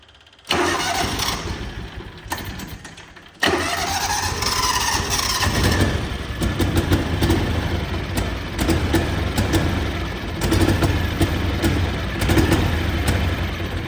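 John Deere Gator 6x4 engine cranking, catching and then running roughly on one cylinder, a loud close uneven idle with a brief stall and restart before settling into a steady rough drone.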